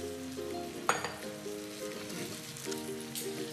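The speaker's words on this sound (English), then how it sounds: "I'm gonna go ahead and add my carrots right back to it" Carrots go into a pan of rum glaze that sizzles and fries steadily, with a short clink of a utensil early on and a continuous crackling hiss.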